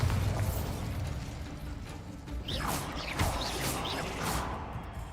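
A Bombarda blasting spell in Hogwarts Legacy, a loud rumbling explosion with crackling debris and a few whooshing magical swishes following, dense and close.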